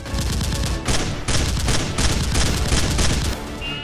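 Rapid, dense gunfire in a staged Nerf gun fight scene: a continuous, loud volley of overlapping shots lasting about four seconds, with no talking.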